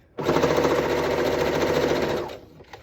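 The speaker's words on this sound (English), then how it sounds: "I, at this point, am lazy and just end up serging the edges." A serger runs at high speed along the edges of fabric for a scrub cap, a loud continuous motor whir with a fast mechanical stitching rattle. It lasts about two seconds and then stops abruptly.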